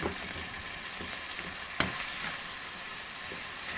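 Tomatoes sautéed with dried fish in a pan give a soft, steady frying sizzle, faint and even, broken by one sharp utensil tap partway through, with no voices.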